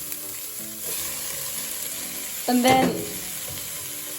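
Capsicum and onion frying in a pan, a constant sizzle with a loud scraping stir midway, close by, with a brief spoken phrase near the start.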